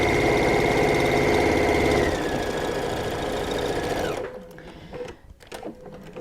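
A sewing machine stitches a half-inch seam joining quilt blocks, running at a steady fast hum for about four seconds, slowing briefly, then stopping, close and loud, followed by quiet handling noises.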